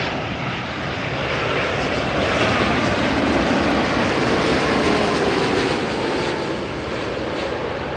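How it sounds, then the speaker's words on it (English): United Boeing 787-9 Dreamliner arriving from Newark and landing at LAX, a steady loud jet roar that swells slightly in the middle and stays prominent, with no talk. "This is United 2403 coming in from Newark, a 787-9 Dreamliner."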